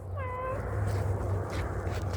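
A cat met outdoors on a walk gives one clear, fairly close meow at the start over a steady low background hum and rustle, with no further calls.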